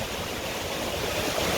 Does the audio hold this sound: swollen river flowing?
yes